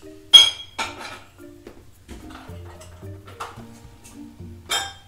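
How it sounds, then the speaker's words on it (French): Cups, bowls and cutlery clink and knock against each other as they are loaded into a dishwasher, several sharp close clinks scattered among quieter thuds and rattles. "On met dans la machine à laver, par contre attention de rien péter quand on met dedans."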